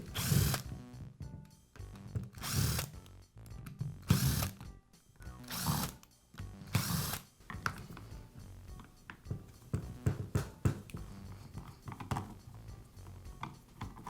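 Screws come out of the side cover of a Makita drill during repair, heard as five short loud power-driver bursts in steady succession, followed by quieter clicks and handling noises, with no talking.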